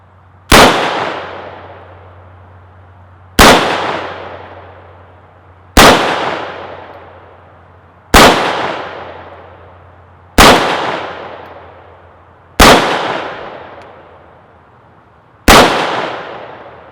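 Seven loud, sharp gunshots from a Rifle Dynamics AK rifle fitted with an MDC muzzle brake, fired singly at a steady pace about two to three seconds apart, each crack trailing off in a short ringing decay over a low background hum.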